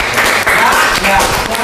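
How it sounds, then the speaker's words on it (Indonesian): Dense, loud clapping from a class of ninth-grade students during an Islamic studies presentation, a short burst of applause with voices mixed in. "Tepuk tangan."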